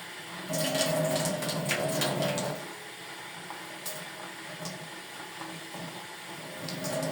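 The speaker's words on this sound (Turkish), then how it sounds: "şöyle pirincimi de yıkayayım" Tap water runs into a pot as rice is rinsed in a kitchen sink, a steady close splash for about two and a half seconds before fading to quieter handling and faint trickles.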